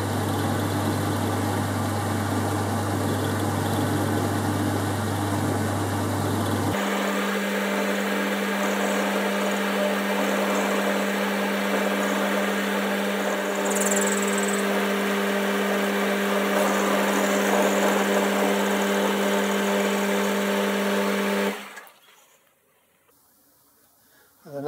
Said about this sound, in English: 8mm milling cutter in the chuck, start to cut.